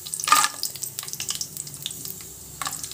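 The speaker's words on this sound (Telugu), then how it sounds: "ఆయిల్ వేడెక్కిందండి చెక్క లవంగ షాహీ జీరా బిర్యానీ ఆకు వేసుకొని వేయించుకోవాలి ఇప్పుడు ఇందులో జీడిపప్పు వేసుకుందాము" Cashews with cinnamon, cloves, shahi jeera and bay leaf frying in hot oil, a crackling sizzle with sharp bursts early on and softer spitting after, no talk.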